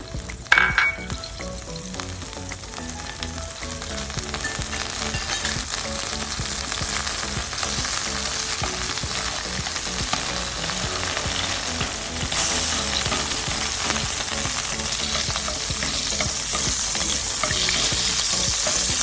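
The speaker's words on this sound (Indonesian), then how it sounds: "Yang pertama kita lelehkan dulu" Butter melting in a pan for caramel popcorn gives a steady, dense sizzle and crackle that runs without pause and grows slightly louder toward the end, with no voices.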